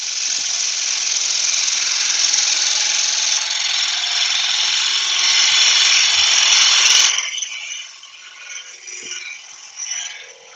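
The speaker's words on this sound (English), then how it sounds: "It's a very noisy piece of timber." An oak platter spins on a wood lathe as a gouge cuts the noisy timber, giving a loud, steady rattling scrape for about seven seconds before the tool lifts away and the sound drops to a quieter hum with light taps.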